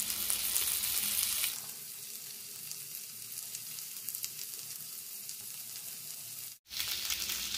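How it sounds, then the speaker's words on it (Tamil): Peri peri chicken with a sprinkle of coriander sizzles steadily in a pan, a dense close frying hiss that grows quieter after the first second and a half, with a brief break near the end. "இப்போது இதில் லைட்டாக கொத்தமல்லி மேலே தூவி விட்டு கொஞ்சம் நேரம் ஃப்ரை பண்ணி எடுத்துக்கலாம்"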